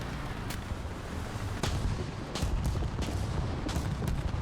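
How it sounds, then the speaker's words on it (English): Bomb blasts and gunfire in the tank game War Thunder, with a continuous rumble of battle and several sharp cracks and booms spaced irregularly, one heavier impact standing out partway through. "Oh, that's a big bomb"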